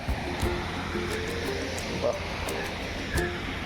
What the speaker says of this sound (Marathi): आपण पाणी पण एकदम मस्त चालू आहे नदीला आणि एकदम जोरात पाणी पण आहे